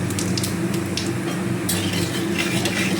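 Whole cumin seeds sizzling in hot oil in a wok, a dense continuous crackle with occasional scraping stirs and light metal clinks, close and steady.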